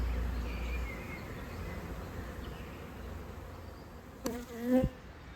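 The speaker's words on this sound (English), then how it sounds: "Hive number 4 has just swarmed." A honey bee swarm buzzing around a beehive, a dense, steady drone filling the whole stretch, with a brief vocal sound near the end.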